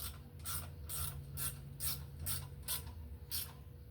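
A nut being screwed by hand onto a bolt with a damaged thread: about eight evenly spaced, close scraping, rasping turns, each short and gritty, over a faint steady hum.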